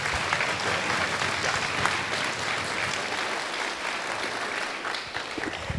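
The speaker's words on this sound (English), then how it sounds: "Let's give a round of applause to our sheriff and say thank you so much." Steady applause from an audience at a community meeting about the Santa Rosa and Sonoma County fires, honoring the sheriff; dense sustained clapping fills the room at an even level throughout.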